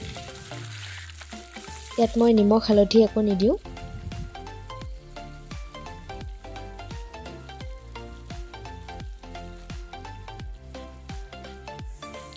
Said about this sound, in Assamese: মই এতিয়া পটলখিনি অকণমান টাইম ফ্ৰাই কৰি ল'ম